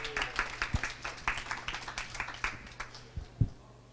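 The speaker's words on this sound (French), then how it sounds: "Je propose qu'on applaudisse François" An audience at a café debate on volunteering applauds, with a steady patter of clapping hands carrying for several seconds and gradually thinning out, moderately distant and fairly quiet.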